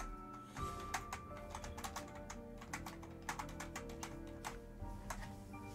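Rapid computer keyboard typing during an online session of The Binding of Isaac: Repentance, with dense, irregular clicks running steadily over a continuous game music bed.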